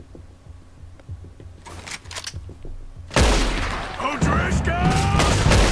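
Gunfire in the video game Red Dead Redemption 2 erupts as a loud, dense burst of shots, after softer scattered thumps and ambient hum, while a player speaks over it.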